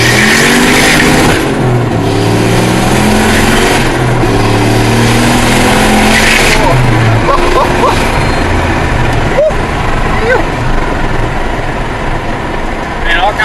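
An LS1-powered turbo one-ton truck pulls hard from second gear, the engine roaring loudly with repeated stepped rising revs and gear changes, plus a sharp bang midway.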